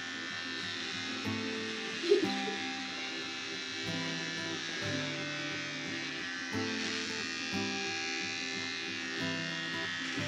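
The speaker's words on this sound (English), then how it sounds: "we're shaving his hair off" An electric shaver runs through a head of hair, giving a close, steady buzzing drone whose pitch shifts slightly as it moves, with one brief louder knock.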